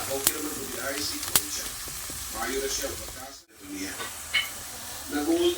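Meat sizzles and fries steadily in a pan for a spaghetti sauce, a continuous crackling hiss broken by a few sharp clicks and scraping stirs, with a brief dropout midway.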